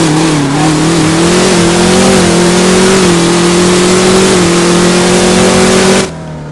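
Tuned Dodge Challenger Hellcat at a No Limit drag race, engine roaring loud and close through a full-throttle drag run, pitch climbing and dipping across gear shifts before cutting off sharply at the end.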